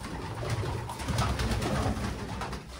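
Domestic racing pigeons coo steadily in a loft, a continuous close-up murmur of soft throaty calls with no talking.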